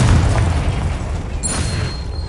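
A spell explosion in the Hogwarts Legacy video game booms loudly up close, a deep sustained rumble with a rushing burst filling the whole moment.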